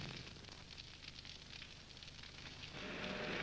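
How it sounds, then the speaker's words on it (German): A burning ship ablaze on calm tropical sea in a colorized pirate film, a steady dense crackle and roar of flames that swells slightly toward the end. "Bald war es nur noch ein Flammenmeer auf der windstillen tropischen See."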